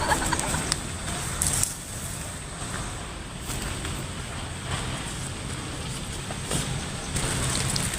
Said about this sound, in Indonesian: Ya hujan ye.